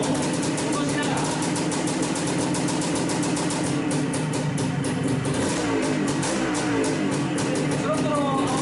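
A Suzuki TS185ER motorcycle engine runs with the choke being adjusted, a steady close two-stroke putter with a slight rev change partway, while someone talks over it.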